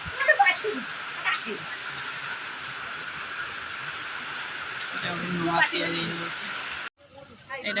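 Steady rain falls outdoors at a picnic spot in Bhubaneswar, Odisha, a continuous soft wash beneath people talking, ending with a short break and a quieter stretch.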